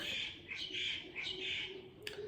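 Birds chirping outdoors in repeated bright bursts, moderately loud, with one sharp click near the end and no talk.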